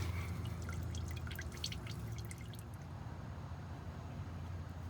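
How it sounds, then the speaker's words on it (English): Old engine oil drips from the drain of a 1988 Chevy Blazer 5.7L during an oil change. Quick, light drips patter in an irregular run over a low background hum, thinning out after the first couple of seconds. "I like to let it drip to try and get as much of the old oil out of the engine as possible"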